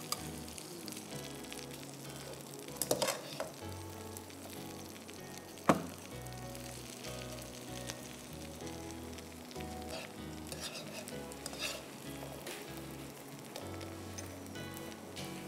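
Oil sizzles on a greased hot sizzler plate, a steady soft crackle under music, broken by a couple of sharp clacks, with no one speaking.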